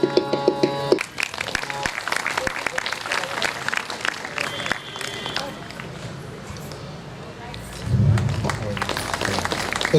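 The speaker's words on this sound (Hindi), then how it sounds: "तालियां बजाएंगे।" An audience at an outdoor welcome ceremony during a Gayatri Mahayagya kalash yatra breaks into scattered clapping that swells into steady applause, with crowd murmur and talk running underneath.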